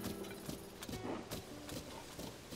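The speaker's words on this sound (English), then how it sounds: "this is a massive horse" Hooves of a massive horse in the Zelda: Tears of the Kingdom game clop in an uneven run of soft hits, fairly close, under quiet game ambience with no voice.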